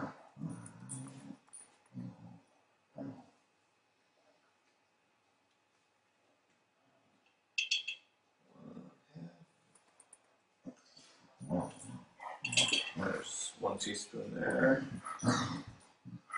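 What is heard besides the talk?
dog making noise in the background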